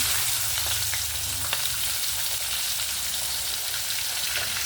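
Chopped onion and green chili pieces fry in a pan for a cauliflower, drumstick and tomato curry, giving a close, steady, even sizzle that carries through the whole stretch.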